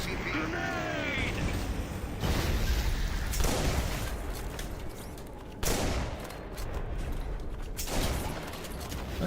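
Rapid gunfire and explosions in a multiplayer shooter video game, dense continuous bursts with loud booms throughout, under a player's voice.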